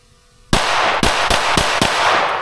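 Five sharp pistol shots from an HK VP9 crack out at an indoor-style range, spaced roughly a third of a second apart after a brief quiet lead-in, loud and close with ringing reverb between reports.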